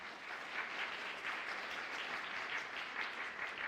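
A church congregation at an Easter worship service applauds together, a steady, moderately distant patter of clapping hands that continues evenly throughout.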